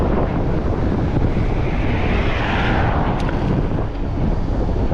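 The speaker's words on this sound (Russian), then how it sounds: "Встречный ветер." Steady, heavy headwind buffeting a microphone while riding in Crimea, a dense roaring rumble with no gaps, loud and constant throughout.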